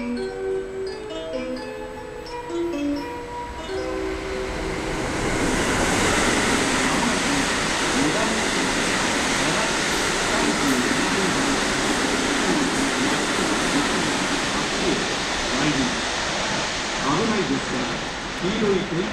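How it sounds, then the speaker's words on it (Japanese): A JR West 223 series train rumbles through a station in Japan, a broad roaring wash that swells and holds, with a Japanese station announcement heard briefly before it arrives. "電車が通過します。"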